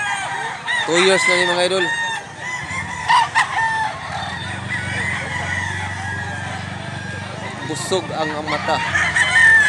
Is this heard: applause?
no